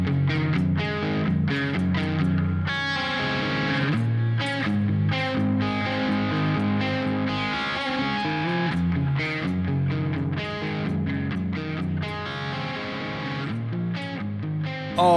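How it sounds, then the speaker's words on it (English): Kiesel Crescent electric guitar played with mid-gain distortion, a dense, continuous riff with chugging low chords and ringing notes, loud and steady with no talking. "I've just been playing this guitar ever since."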